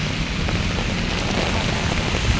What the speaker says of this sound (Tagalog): ulan pa rin.